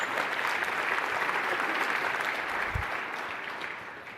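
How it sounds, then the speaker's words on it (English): A round of applause from a keynote audience at a strength and conditioning conference, a broad, even wash of clapping that holds steady and then tapers slightly near the end. "Give him a round of applause."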